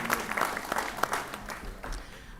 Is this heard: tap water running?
no